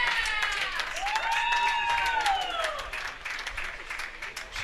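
An international crowd applauds at the 2017 U.S. Women's Open match-play round, a sustained wash of clapping with rising whistles and cheers that swells and then gradually fades.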